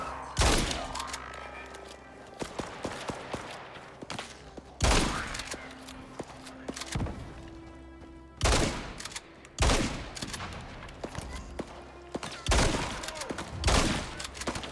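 Gunfire in the video game Icarus sounds as sharp, loud bursts of shots, spaced irregularly across the span, with quieter game ambience between them.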